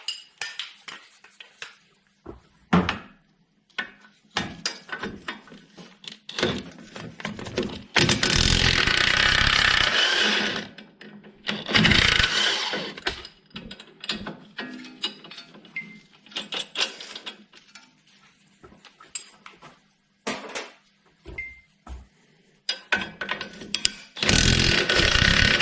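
Ratchet and spanner working 19mm bolts loose from the shock absorber on a Peugeot Bipper's front suspension: repeated bursts of ratchet clicking, metallic clinks and longer stretches of rapid ratcheting, close up, with no talking.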